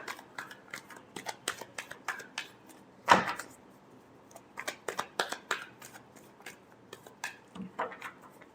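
Tarot cards are shuffled by hand, a series of soft, crisp riffles and taps in uneven bursts, close and quiet, with one louder slap partway through.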